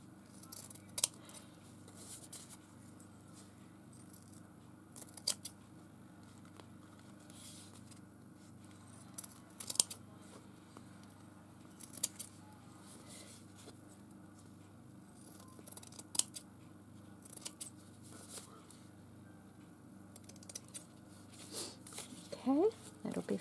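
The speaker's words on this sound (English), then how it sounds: "And now I can trim up my lace." Scissors make short, sharp snips while trimming lace for a vintage-style floral journal cover, scattered cuts spaced several seconds apart, close but quiet, with a soft room hiss between them.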